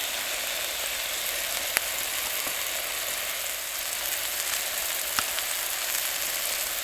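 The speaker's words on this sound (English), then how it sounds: "With a bit of oil in the pan, in we go with the steak." A steak frying in oil in a camp pan, giving a steady, close, dense sizzle and crackle throughout, with a couple of faint clicks and no talking.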